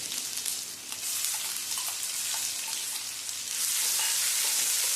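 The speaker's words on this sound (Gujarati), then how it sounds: "હવે આપણે આમાં આદુ લસણ ને મરચાંની પેસ્ટ નાખીશું" Ginger, garlic and chili paste added to hot oil with cumin seeds in a pan, giving a steady close sizzle with a brief hiss that grows louder near the end.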